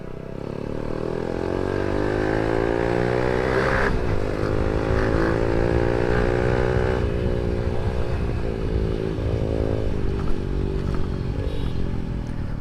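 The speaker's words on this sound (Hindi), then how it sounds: "हमारा मोटरसाइकिल भी स्पीड मार लेता है, तीसरे में 80 और चौथे में 100" Motorcycle riding through a market, its engine droning steadily and loud at close range, with the pitch rising and shifting as it accelerates through the gears.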